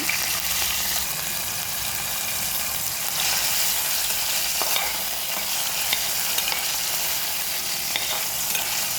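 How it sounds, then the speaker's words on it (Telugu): Washed salted fish frying in oil in a kadai, a loud, dense, unbroken sizzle and crackle with occasional stirring scrapes, sustained close up throughout. "బాండీలో నూనె పోసుకొని కడిగిన ఉప్పు చేపని వేసుకోవాలి ఉప్పు చేప అయితే బాగా కలుపుకోవాలండి"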